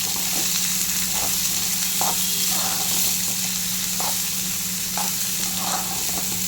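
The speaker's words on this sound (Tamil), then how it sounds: "அதை இதில் போட்டு நல்லா கோல்டன் ஃப்ரை வர வரையும் நம்ம நல்லா வதக்கணும்" Onions sizzle steadily in a hot pan, frying toward golden for an egg pepper gravy, a constant crackling hiss with occasional stirring scrapes, up close.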